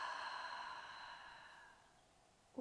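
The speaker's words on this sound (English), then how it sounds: "and exhale" A slow, long exhalation during a hypopressive breathing exercise, a soft steady breathy sigh close to the listener that gradually fades over a couple of seconds.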